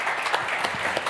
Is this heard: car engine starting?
no